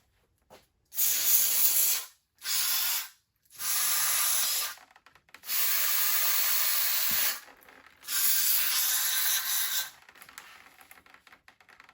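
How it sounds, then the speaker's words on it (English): An aerosol can sprays lubricant in five loud hissing bursts of varying length, close by, separated by brief silences, with faint rustling at the end. "So I'm just gonna work it to the other end and spray some more in there."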